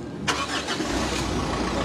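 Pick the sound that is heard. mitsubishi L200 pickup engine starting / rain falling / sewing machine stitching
mitsubishi L200 pickup engine starting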